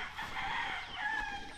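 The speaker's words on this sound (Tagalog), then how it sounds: "Tapos yung mga chicken natin, chicken breed dito. Ito yung mga alaga natin, ang dami." Roosters crow and hens cluck on a Filipino chicken farm, a crowing call rising and holding over a bed of softer clucks, fairly close and moderately loud for a brief moment.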